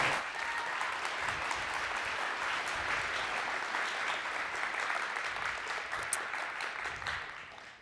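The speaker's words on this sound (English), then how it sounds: "Please, a big, big round of applause." A PyCon conference audience gives a long, even round of applause for speakers taking the stage, a dense clapping roar heard from within the hall that fades out at the close.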